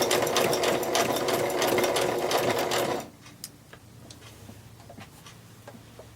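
A sewing machine runs steadily for about three seconds, stitching fabric scraps for a lollipop Christmas tree ornament, then stops, leaving faint clicks and handling noises before a sharp tap at the end.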